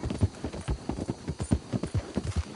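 Steady clip-clop of horse hooves, regular rhythmic beats close by, fairly loud and continuous with no talking.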